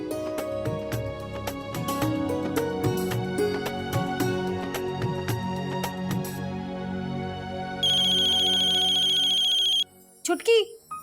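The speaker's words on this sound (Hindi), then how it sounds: "देख ना फोन किसका आ रहा है।" A phone ringtone plays in a home over background music and voices, a steady electronic ring of about two seconds that stops abruptly, followed by brief indoor sounds.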